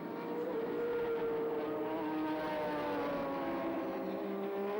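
Touring race cars circling Sandown Raceway in the 1984 Australian Touring Car Championship, a BMW among them, their engines a steady loud blended roar with shifting tones throughout, no voices.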